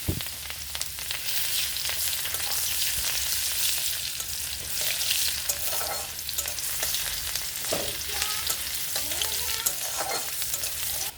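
Whole cumin seeds and finely chopped onion fry in oil left over from frying fish, giving a close, continuous crackling sizzle, with occasional stirring scrapes in the pan and no voices.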